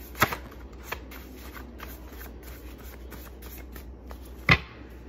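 A deck of cards shuffled close by, with a fast riffling burst at the start and another louder riffle near the end, soft card handling in between.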